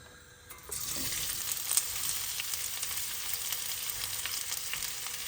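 Cashew nuts frying in hot oil on high heat, a steady close sizzle that swells as they drop in and then crackles on continuously with no talk.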